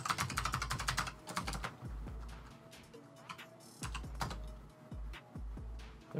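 Password being typed on a computer keyboard during a Kali Linux WSL2 setup on Windows 10: a fast burst of close, crisp key clicks, then scattered individual keystrokes and a few louder key thumps, with no talking.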